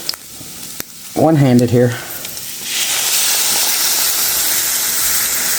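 Milk poured into a hot pan of sausage sets off a loud, sustained hiss and sizzle that starts partway through and holds steady, after a brief spoken remark and some clattering.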